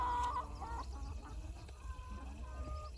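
Several chickens cluck and murmur in short, uneven bursts at moderate distance, with no talking.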